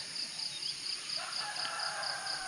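Faint fowl calls sound through a steady outdoor background with insects chirping in a repeating pattern, distant and quiet.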